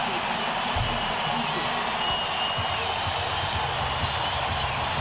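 Basketball arena crowd in a 1998 NBA playoff game, Rockets at Jazz, cheering during a timeout as a steady, dense roar with scattered applause under an announcer's commentary.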